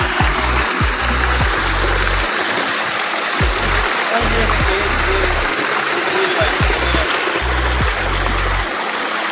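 Water gushes steadily and close from the outlet of a solar-powered submersible pump on a farm, a loud continuous splashing rush with low voices talking under it.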